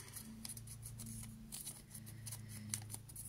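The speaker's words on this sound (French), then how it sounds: "il faut que je me munisse d'une petite paire de ciseaux et que je coupe au milieu" Quiet, crisp snips of a small pair of scissors cutting scrapbooking paper down the middle, several cuts in a loose rhythm, over a faint low hum.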